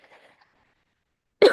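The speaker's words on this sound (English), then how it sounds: "I've got a little bit of a lingering cough." A single sharp cough bursts out loud and close near the end, after a stretch of faint, quiet speech-like murmur and silence.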